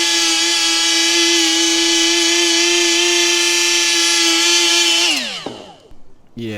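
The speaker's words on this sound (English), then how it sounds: "I thought I'd try the M12 die grinder with a wheel on it" An M12 die grinder with a cutting wheel cuts into an exhaust pipe on a BMW E87, making a loud, steady, high-pitched whine. After about five seconds the tone drops and dies away, followed by brief knocks.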